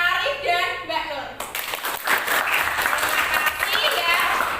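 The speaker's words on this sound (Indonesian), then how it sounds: "tepuk tangan untuk Mas Arif dan Mbak Nur." Students in a classroom clap for two classmates, a brief burst of hand clapping with children's voices and chatter mixed in close by.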